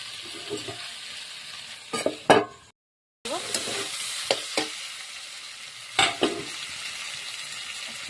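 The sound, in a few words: stirring potato and tomato curry in a pan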